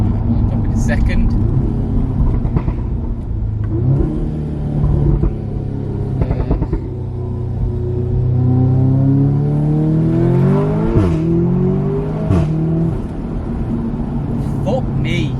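An Audi S3 8V facelift with a Milltek non-resonated catback exhaust revs outdoors, its loud engine note rising and falling through several throttle blips with rumbling pops, while people talk over it.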